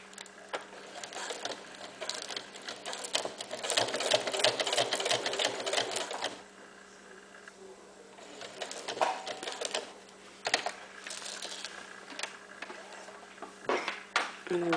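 A sewing machine stitches velcro onto a thick cloth diaper in quick whirring bursts, pausing and restarting several times, with soft handling noises between runs.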